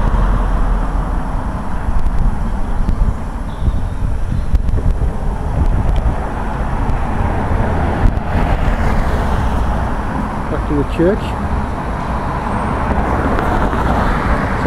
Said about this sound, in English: Sorry for the traffic again.